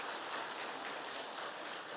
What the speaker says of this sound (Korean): 우리 그들 위해서 격려하며 한번 박수 한번